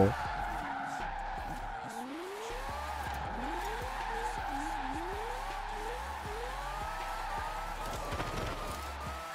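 Tires skid and squeal repeatedly over a steady revving engine, with rising engine pitch sweeps and a low rumble throughout; a voice talks briefly.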